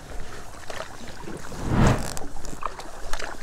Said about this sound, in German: jetzt paddeln wir hier gerade durch Geldern durch